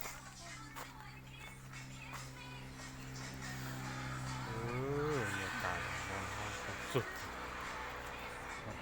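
Cows by a roadside in Nan, Thailand; one moos, a drawn-out low call rising and falling, heard over steady engine or road noise with some talking nearby.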